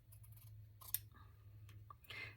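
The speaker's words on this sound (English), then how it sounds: "These are great fabric scissors. I love my Gingher scissors." Gingher fabric scissors cutting ribbon: a few faint, crisp snips and clicks of the blades over a quiet low hum, spread across a couple of seconds.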